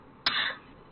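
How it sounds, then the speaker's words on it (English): A single short, husky cough from one person, close and abrupt, then fading into a quiet room. "Still coughing up yuck."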